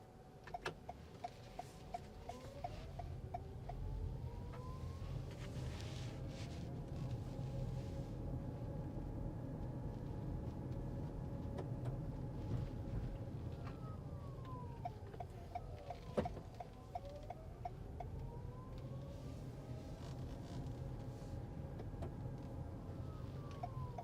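A 2021 Toyota RAV4 XSE hybrid with 100k miles drives on the road, a steady low cabin hum and road rumble with faint rising and falling whine tones and occasional ticks, no speech.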